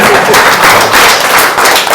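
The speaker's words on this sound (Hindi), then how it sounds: "एक तालियां आवाज के लिए।" A short, loud burst of audience clapping at a crypto seminar, many hands at once in a continuous dense roar with faint pulsing.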